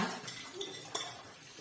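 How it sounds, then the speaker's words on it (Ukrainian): Dishes being washed by hand, with a few sharp clinks of cutlery and crockery over running water and a constant wet rush, close and fairly quiet, with no talking. "Мию посуд"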